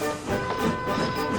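A steam tank engine trundles along pulling a line of freight trucks, with a continuous rumbling rattle and rhythmic clanking of the wheels, close and fairly loud throughout.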